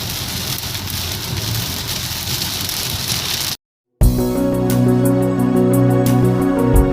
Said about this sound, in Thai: เมื่อกี้ฝนตกแรงเกินไปนะครับ